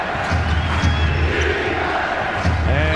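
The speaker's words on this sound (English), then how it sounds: "the crowd chants what the story of this finish will be all about. Defense." Boston Celtics home crowd in an overtime playoff basketball game against the Nets chanting defense, a loud rhythmic roar of many voices with low thumps mixed in.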